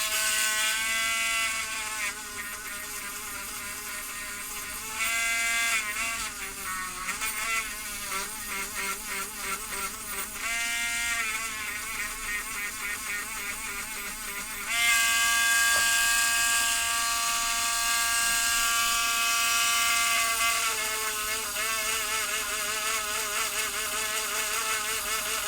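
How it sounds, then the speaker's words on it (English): A rotary Dremel knockoff fitted with a 443 Dremel tip cleaning the switch leaves of a 1975 Bally Bow and Arrow pinball machine, a high buzzing whine that stutters and changes pitch as it works between the contacts, close and continuous. "rotary Dremel knockoff, but it's got a real 443 Dremel tip on it. And we're just going to go between all these leaves and give them a clean"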